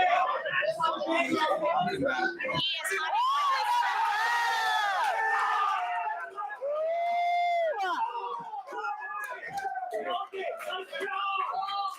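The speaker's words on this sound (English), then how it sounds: "The crowd goes crazy." A grappling superfight crowd erupts in loud, sustained cheering, whoops and shouts after a straight ankle lock submission win, the roar building and staying dense for several seconds before breaking into scattered yells and chatter.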